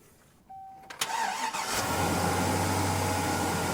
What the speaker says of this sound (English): this thing cranking up that 6-liter V8 2003 HD 2500